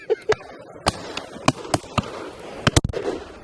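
Shotgun blasts at partridge on a driven field-sports shoot ring out as sharp reports spread through a few seconds, some near and loud, others fainter, over quiet outdoor ambience.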